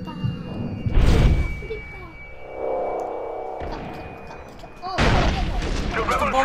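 Explosions boom in the multiplayer shooter Far Cry 3, a heavy blast near the start, a rumbling swell in the middle and another loud burst later, with several players talking and shouting throughout.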